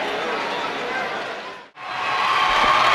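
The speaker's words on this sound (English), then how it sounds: "A crowd roaring their approval here for this last 1:04." A high school basketball crowd in the Sulphur Springs Wildcats vs Highland Park game roars in a loud, continuous wash of cheering and chatter that briefly drops out before swelling again.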